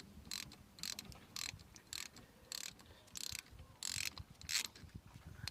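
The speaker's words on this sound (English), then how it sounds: "we're going to get a 13mm socket and very gently twist it off" A 13mm socket on a ratchet clicks in repeated short bursts while loosening a hollow banjo bolt on the rear brake caliper of a 2007 Vauxhall/Opel Meriva, close and regular.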